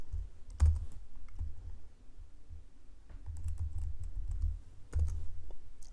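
Computer keyboard keys clatter as code is typed, in bursts of close, quick clicking with short pauses between runs.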